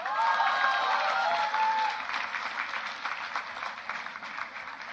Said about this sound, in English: Students, please cheer loudly.